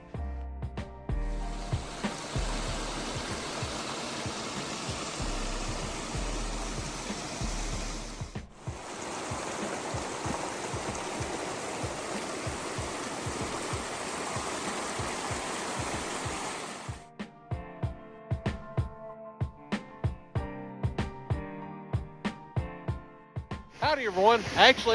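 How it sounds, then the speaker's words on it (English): Creek water pouring over a small farm dam, a steady broadband rush that fills the clip and then breaks into choppier splashing toward the end, with a voice speaking over it. "the dam's holding up pretty good. It's pretty neat. Seeing water running over it."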